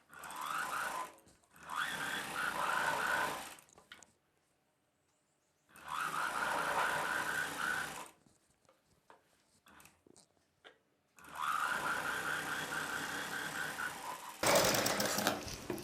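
A sewing machine stitching a blouse waist belt runs in several long, even bursts of rapid mechanical chatter, with quiet pauses and faint handling between runs.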